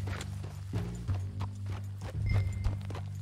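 Horse hooves clop at a walking pace in Red Dead Redemption 2 against a low, steady hum, with soft uneven thuds and faint ambient noise.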